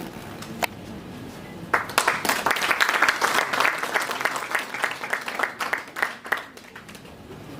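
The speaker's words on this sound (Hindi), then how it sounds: "एक बार जोरदार ताली हो जाए सर के लिए।" Applause for a speaker at a business chamber event on agriculture and trade, a sustained round of clapping from a seated audience that swells and then gradually tapers off.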